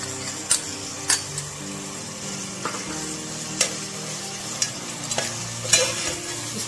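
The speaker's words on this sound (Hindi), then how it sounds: "इसके साथ ही इसमें ये सारे मसाले डाल देंगे, नमक, मिर्च और हल्दी।" Rice with salt, chili, turmeric and pickle masala being stirred and fried in a pan, a steady close sizzle broken by periodic scraping strokes of the spoon.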